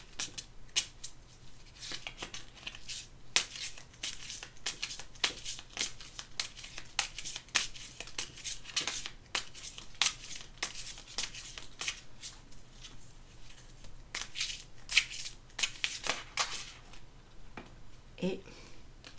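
Oracle cards being shuffled by hand, giving a steady run of soft, papery riffles and flicks at close range, with brief pauses and a final few scattered taps.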